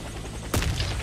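Sniper and gunfire shots in an online multiplayer shooter, a single sharp burst halfway through that rolls into a short echoing tail.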